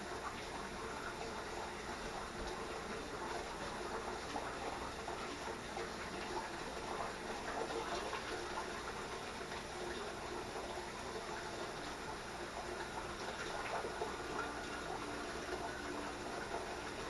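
Water runs from a kitchen tap into a cup while preparing bread-machine dough, a steady continuous rushing stream at close range with no voices.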